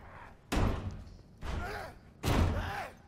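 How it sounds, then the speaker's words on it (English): A zombie bashing against a door in the video game The Last of Us, three heavy slams spaced about a second apart, loud and close, each ringing out briefly before the next blow. "he's really bashing that door"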